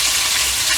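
Catfish fries in a pan with a dense, constant close-up sizzle and crackle, no voices over it.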